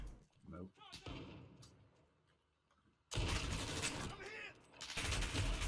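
Heavy gunfire erupts in a Call of Duty: Modern Warfare gunfight match, loud and sustained in the second half. Before it, people talk over quieter game sounds.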